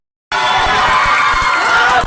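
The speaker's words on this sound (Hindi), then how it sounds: "तालियां प्लीज जोरदार यार" Seminar audience bursting into loud applause and cheering, a dense, sustained roar of clapping and voices that starts abruptly after a short silence and holds steady to the end.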